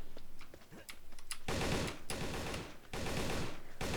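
Gunfire in the video game Darkest Days, bursts of rapid rattling shots that start after a brief lull, loud and dense, with a short pause midway.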